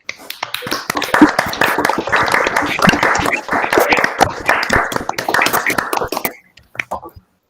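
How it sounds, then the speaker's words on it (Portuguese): Lively applause and clapping from a group, dense and loud for several seconds, then thinning to a few scattered claps. "Gostaria de pedir que vocês abrissem o microfone para que a gente possa aplaudir o professor Vitor."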